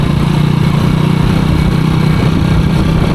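A motorcycle engine hums steadily and close throughout a ride through rural Bengal villages, with a continuous low drone and wind rush and no pauses.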